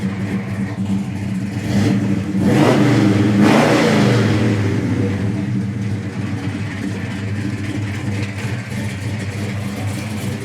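A 1970 Chevelle SS with a big-block engine and five-speed revs up hard around the second to fourth seconds, then settles into a steady loud engine drone for the rest of the run.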